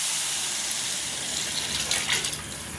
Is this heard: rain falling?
no